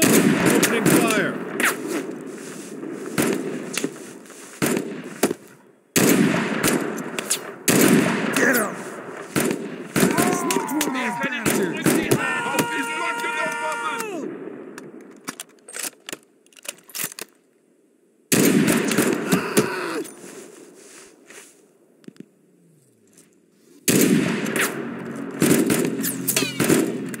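Gunfire in the war game Mud and Blood crackles in dense, loud bursts of rapid shots, broken by several abrupt silent gaps, with some voice and other effects mixed between the volleys.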